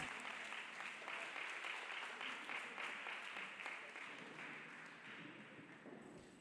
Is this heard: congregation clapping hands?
yes